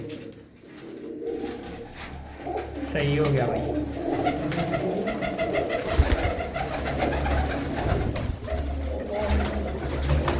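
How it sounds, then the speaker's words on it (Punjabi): Pigeons kept by a Punjabi village fancier coo in soft, repeated throaty calls close by, with a voice talking over them and some rustling and handling noise. "ਇਹ ਆ ਬਾਬੇ ਜੰਟੇ ਵਾਲੇ ਕਬੂਤਰ"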